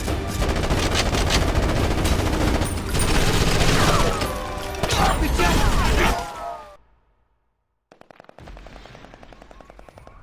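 Rapid automatic gunfire from the Ghost Recon Advanced Warfighter video game rattles loudly in sustained bursts for about six seconds, then fades to silence before softer clicking mechanical sounds resume.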